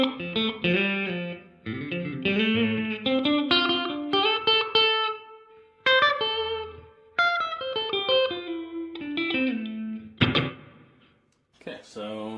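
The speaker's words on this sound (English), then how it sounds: "Okay, so it's a bigger plate reverb." Guitar notes and chords run through a Donner stereo pedal's plate reverb with decay set midway, ringing out in a lush wash between phrases, with brief pauses where the tail fades.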